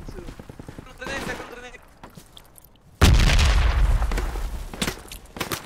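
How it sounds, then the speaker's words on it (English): A grenade blasts in the military shooter game Project Reality, a sudden loud boom followed by rumbling gunfire and debris, preceded by a voice talking over distant shots. "Oh, I ran right into grenade!"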